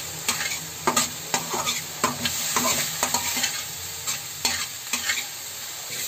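Chopped apple and cardamom stirred in a hot pan for seviyan kheer: a spoon scrapes and clacks in an irregular rhythm over a steady close sizzle, with no talking.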